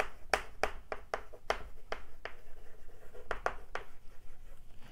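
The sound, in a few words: writing on the board during a physics lecture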